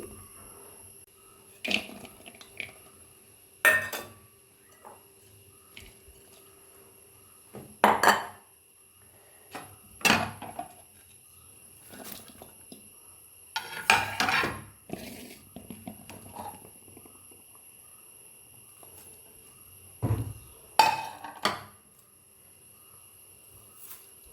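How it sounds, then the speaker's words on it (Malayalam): Ingredients including ginger are mixed in a cheenachatti for small sardines, producing scattered metallic clinks and scrapes in short bursts separated by quiet gaps, close and fairly soft. "ഈ ചേരുവകളെല്ലാം നമുക്ക് ഒരു ചീനച്ചട്ടിയിലേക്കിട്ട് നല്ലപോലൊക്കെ മിക്സ് ചെയ്തെടുക്കാം"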